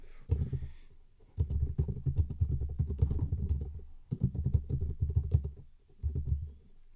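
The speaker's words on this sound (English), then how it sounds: "I'm not typing all of that in that line." Rapid typing on a computer keyboard during a live futures trading session, a dense run of close clicking keystrokes in three bursts separated by short pauses, with no talk.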